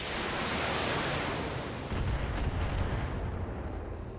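Salvo of LRM-10 long-range missiles fired from a BattleTech mech, a loud sustained roaring rush of launch noise that swells partway through, with a few faint high tones on top.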